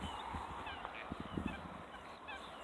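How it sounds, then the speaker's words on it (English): Several geese honk in short bursts, fairly distant, over a soft steady background hiss. "Not so peaceful watching the old geese taking off"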